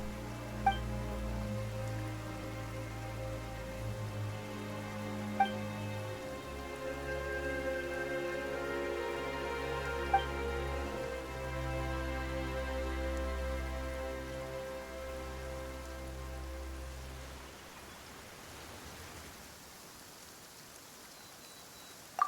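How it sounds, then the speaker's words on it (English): Steady rain pours down in the Genshin Impact game world, a dense continuous hiss of falling drops under layered ambient music with occasional soft chimes, ending in a thinner rainy wash. "Why is it raining all of a sudden?"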